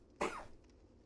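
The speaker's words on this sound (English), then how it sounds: "I must be annoying to listen to the cough." A single short, dry cough from a man with a tickle in the back of his throat, close and fairly quiet, heard alone.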